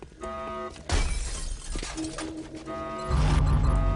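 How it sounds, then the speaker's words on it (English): Glass shatters in the video game XCOM: Enemy Unknown, a sharp crash of breaking panes cutting through game music and ambience, followed by a second heavy impact near the end. "Stop breaking glass."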